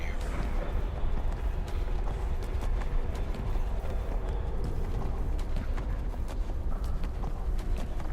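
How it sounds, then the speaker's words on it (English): Horse hooves pounding in a fast, continuous clip-clop while riding in the Neverwinter game, dense and close under a low rumbling backdrop. "when you're moving on your horse"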